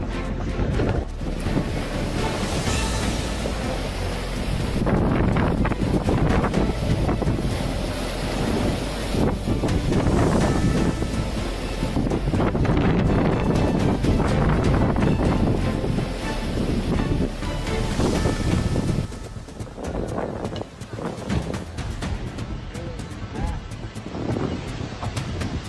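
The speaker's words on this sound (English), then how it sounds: "a storm brought in raging waves that smashed boats against the shore" Storm-driven ocean waves pound boats against a shoreline amid strong wind, a loud, continuous roar of surf and gusts with surges and crashes throughout.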